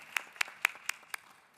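At an AI conference panel session, a handful of slow, evenly spaced handclaps ring out, faint and sparse rather than full applause.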